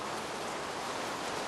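Steady rain pours down in Minecraft, a continuous broadband hiss that stays even and unbroken, moderately quiet and with no voices over it.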